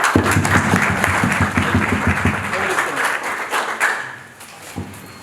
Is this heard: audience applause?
yes